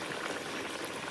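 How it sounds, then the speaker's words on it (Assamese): Spinach and potato dal boiling in a pot, a soft continuous bubbling and gurgling heard up close at a low, even level. "এয়া পালেং আৰু আলু দালি উতলি আছে।"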